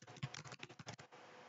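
Quick, uneven keystrokes on a computer keyboard while code is typed into a script editor, a close, soft patter of about a dozen clicks that stops abruptly, with no talking.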